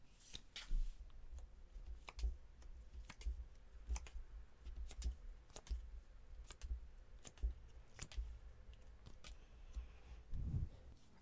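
Tarot cards drawn and handled during a reading, a quiet series of crisp clicks and soft flicks spaced irregularly, close and alone in a hushed room.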